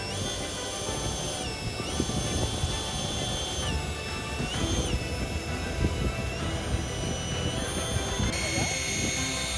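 A 6 kg RC F-35B STOVL jet model with a 12 kg thrust engine whines continuously with a high turbine tone that wavers in pitch, under a rushing roar and scattered clatter, with people talking over it.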